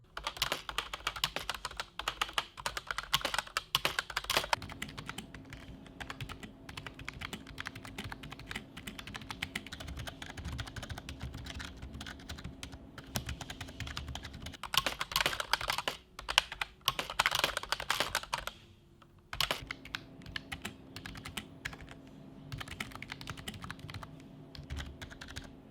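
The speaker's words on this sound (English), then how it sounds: "I'll let you guys hear the sound of the switches when I type on this keyboard" Steady typing on a Cooler Master MasterKeys Lite L membrane keyboard, a dense run of close, clattering keystrokes with a couple of brief pauses, heard alone without any talking.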